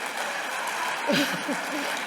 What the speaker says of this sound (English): let's give a big round of applause to Dr. Colleen Morley